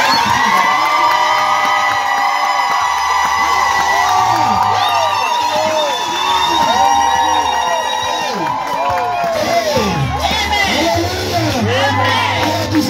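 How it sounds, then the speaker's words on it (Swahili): Church congregation cheering and shouting loudly together, a continuous roar of many voices with rising and falling whoops and yells throughout. "Tusaidia hawa kushangilia."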